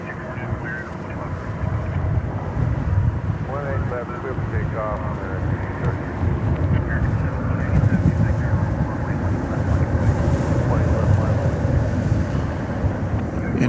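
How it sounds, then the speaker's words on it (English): A DHL jet operated by ABX Air departs DFW at night for Cincinnati, a broad steady engine roar mixed with wind buffeting on the microphone, continuous through the clip while someone talks over it. "There is DHL Flight 102, operated by ABX Air, going off to Cincinnati."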